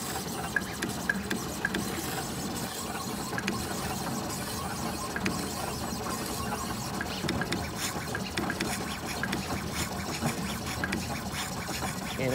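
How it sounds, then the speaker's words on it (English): A Gravograph diamond drag engraving machine cuts into anodized aluminum with a continuous busy mechanical whirring, dense with fine ticking and ratcheting clicks, steady and close throughout. "And that's engraving on a piece of anodized aluminum."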